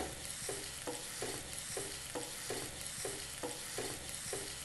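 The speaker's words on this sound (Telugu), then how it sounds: "ఆనియన్స్ పచ్చిమిర్చి రెండు కూడా లైట్ బ్రౌన్ కలర్ వచ్చే వరకు వేయించుకోవాలి" Onions and green chillies fry in a pan, a steady sizzle broken by regular stirring scrapes about twice a second, close and alone with no voices.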